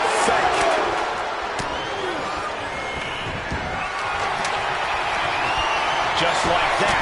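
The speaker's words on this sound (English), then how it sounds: "Just listen to this crowd. I can't hear myself think." Dense wrestling arena crowd roar in the video game WWE 2K26, a loud continuous wash of cheering with scattered sharp impacts, steady throughout and underlying faint commentary-like talk.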